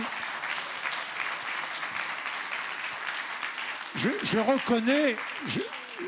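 An audience of Parisians applauds steadily at an evening event, the clapping continuous in the background, and a voice speaks over it toward the end.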